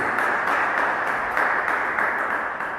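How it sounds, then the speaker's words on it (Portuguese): A church congregation applauds together, a dense, steady wash of many hands clapping at close range that holds evenly loud throughout with no voices breaking through. "Vamos aplaudir e glorificar o Senhor Jesus"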